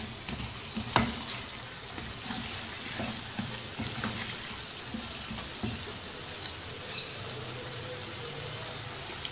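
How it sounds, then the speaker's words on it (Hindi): Three medium potatoes, cut into cubes, sizzle steadily while frying in a pan for a potato and pea curry. Occasional stirring scrapes and clacks sound over a constant frying hiss, with no talking. "मिक्स कर लेंगे अच्छी तरह से और 1-2 मिनट इन आलूओं को भूनेंगे।"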